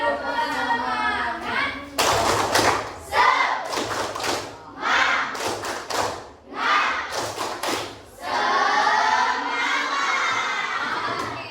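A class of seventh-grade students shouting the tepuk semangat chant together with rhythmic claps, loud and close, with bursts of crowd cheering and thumps between the chanted phrases.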